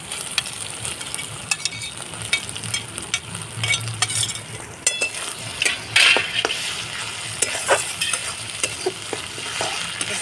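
Garlic, green chillies and ground spices fry in oil in a pan for jackfruit kofta curry: a loud, steady sizzle with frequent spatula clicks and scrapes and occasional bursts of crackling, no speech.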